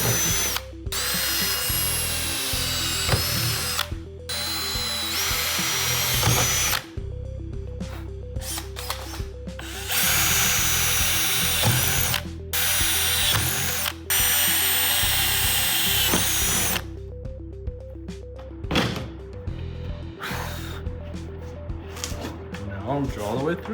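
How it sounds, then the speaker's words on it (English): A loud power drill whines in long bursts, stopping briefly several times between runs, drilling holes to install a wing on an FE Civic sedan. "So I'm gonna put a small hole in here first."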